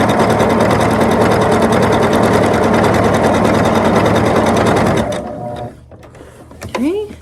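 A sewing machine stitches quilt block pieces in a steady, rapid mechanical whir that runs loud and continuous for about five seconds, then stops, leaving a quieter stretch with a brief rising sound near the end.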